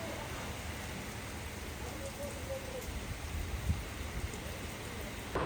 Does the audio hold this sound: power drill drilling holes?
no